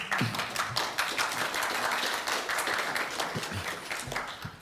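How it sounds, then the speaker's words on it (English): An audience applauds a speaker arriving for a talk, with steady, moderately loud clapping from many hands that carries through and trails off slightly near the end. "This is the only time I get claps before I say anything"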